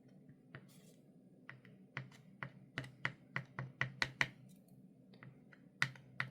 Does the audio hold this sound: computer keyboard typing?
yes